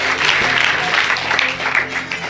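A church congregation applauding and cheering for Jesus, dense continuous clapping from a crowd with mingled voices, loud and steady throughout.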